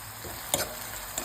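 Onion, green chili and curry leaves frying in a mustard-seed tempering in a pan, a steady sizzle with a couple of sharp stirring clicks, close and alone.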